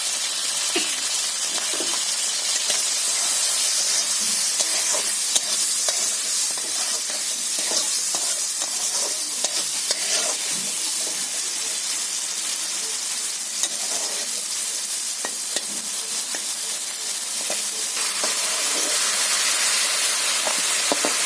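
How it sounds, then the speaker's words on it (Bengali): Shrimp fry in hot oil seasoned with salt and turmeric, giving a steady, dense sizzle that runs unbroken throughout, with faint scraping from stirring rising now and then. "এভাবে আমি লাল লাল করে চিংড়ি মাছটা ভেজে নিচ্ছি।"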